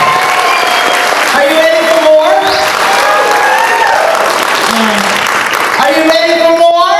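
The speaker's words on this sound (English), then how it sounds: "Come on and give him one more round of applause." A comedy show audience applauds loudly and steadily, with tonal voice-like cheers and whoops rising through the clapping across the whole stretch.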